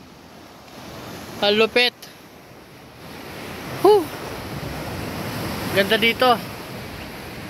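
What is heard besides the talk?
ocean waves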